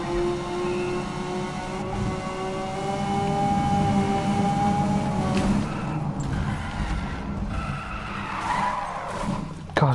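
A car's tires skid and squeal under long hard braking in the racing video game Need for Speed, a loud sustained screech over engine drone that gradually fades, ending with a brief knock.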